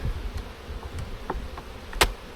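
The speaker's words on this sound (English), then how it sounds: "I can definitely hear bees in here" Bees buzz inside a hive in a low, continuous hum, with a few faint clicks and taps scattered throughout.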